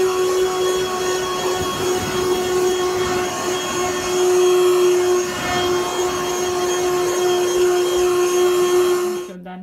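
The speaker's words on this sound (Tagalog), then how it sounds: "Binabacuum ko itong aming carpet dito sa taas" A household vacuum cleaner runs continuously on carpet upstairs, a loud steady whine with a strong constant pitch, cutting off abruptly at the end.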